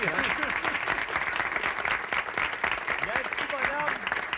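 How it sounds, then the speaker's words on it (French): Lively audience clapping and cheering at a Soirée Canadienne in Drummondville, a dense sustained burst of hand claps with voices calling out across the room throughout. "On va l'applaudir"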